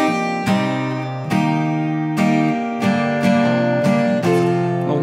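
Guitar slowly plays the intro riff of a Dutch song, strummed chords struck about every second with sustained ringing strings, close and clear with no talking.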